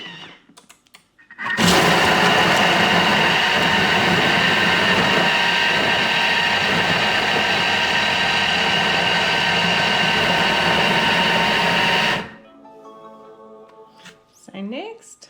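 A Thermomix TM6 chops vegetables on speed 6 with the measuring cup fitted, a loud steady whirring roar that starts abruptly, holds for about ten seconds and cuts off, followed by quiet handling sounds.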